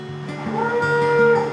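A dairy cow moos loudly and close by inside a cow barn, one sustained low call that rises and swells before trailing off.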